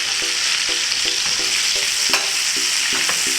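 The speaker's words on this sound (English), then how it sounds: "I'll melt the butter" Butter melting in a pan for buffalo sauce gives a steady, bright sizzle, with soft rhythmic scraping and stirring taps of a utensil against the pan, close and continuous without talking.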